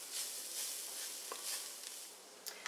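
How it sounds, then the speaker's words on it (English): Curry powder, mustard seeds and cumin sizzling in hot oil in a pot while being stirred: a steady quiet frying hiss with small scraping and popping ticks near the end. "So stir this around for about 2 minutes"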